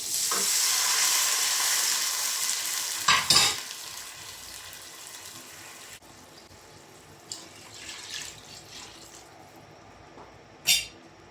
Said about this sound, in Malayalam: വറുത്ത് നന്നായിട്ട് വറുന്നതിന് ശേഷം വെള്ളം ഒഴിച്ച് കൊടുക്കുന്നുണ്ട്